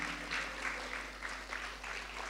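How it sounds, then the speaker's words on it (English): Steady applause from an audience for a guest professor, fairly faint and continuous with scattered clap bursts, at an evening education program. "Give a round of applause to our professor."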